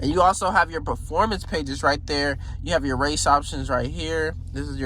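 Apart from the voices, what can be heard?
No everyday noise stands out behind the speech.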